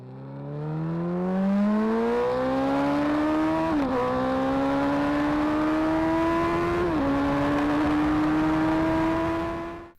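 Suzuki Hayabusa motorcycle engine accelerating hard through the gears, a rising high-pitched whine with two quick drops at gear changes, loud and sustained with no talk.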